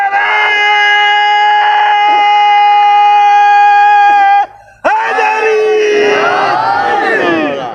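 A crowd at a Shia majlis gathering in Mirpur Mathelo, Ghotki, chants religious slogans loudly. A long sustained, droning call breaks off briefly, then many voices surge back in with rising, wavering shouts.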